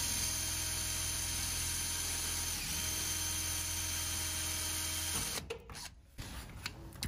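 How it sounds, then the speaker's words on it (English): A steady, close electric drill whines and grinds through metal rivets on an Airstream trailer shell for several seconds, then cuts off, followed by a few clattering mechanical sounds. "you're drilling the right size hole for that rivet"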